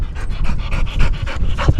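A dog pants close by in quick, rhythmic breaths, roughly a dozen evenly spaced huffs in under two seconds.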